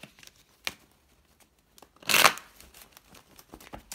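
Tarot cards being shuffled by hand give a single brief, crisp riffling burst midway, with only faint scattered rustles before and after and no talking.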